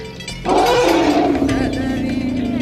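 A tiger roars once, loud and close, opening with a sudden burst and trailing into a long rumbling growl that fades slowly.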